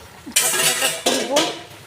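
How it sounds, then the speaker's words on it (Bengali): A cooking pot lid lifted off during simmering potatoes for an egg omelette curry, giving a sudden loud metallic clatter followed by a second scraping clank, close up, with no talk. "ঢাকনাটা খুলব।"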